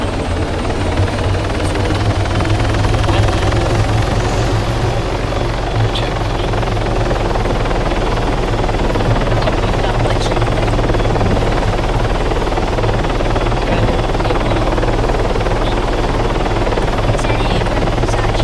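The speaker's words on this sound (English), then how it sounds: "Can I get in the heli with you?" Helicopter in the Arma 3 video game, a loud continuous rotor thrum and engine whine held steady and close through the whole stretch, with no voices standing out.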